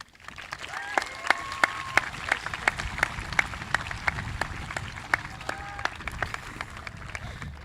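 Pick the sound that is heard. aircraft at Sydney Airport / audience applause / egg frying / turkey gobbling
audience applause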